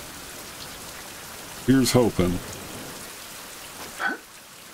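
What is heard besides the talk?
rain in the video game Survival: Fountain of Youth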